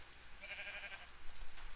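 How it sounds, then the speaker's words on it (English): A sheep in a video game bleats once, a short wavering call over quiet background, fairly close and clear. "There's a sheep in here."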